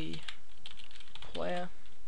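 Computer keyboard keys are tapped in a quick, close-up run, with a few crisp clicks alongside a nearby voice speaking.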